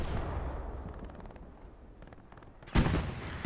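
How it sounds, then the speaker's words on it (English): Gunfire and rocket blasts in the WWII shooter game Hell Let Loose: a steady low rumble with scattered distant shots, then one sharp, loud explosive burst near the end. "Sergeant Johnson coming over to the back and finishes it off with the rockets"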